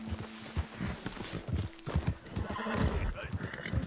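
Horse galloping and neighing in Red Dead Redemption 2: rapid, loud clip-clop of hooves throughout, with whinnies breaking through, under overlapping talk.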